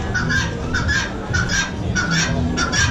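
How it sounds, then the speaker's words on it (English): A guinea fowl at the State Fair of Texas gives repeated loud, harsh two-part calls in a steady rhythm, close by amid a noisy crowd backdrop. "It's a guinea fowl."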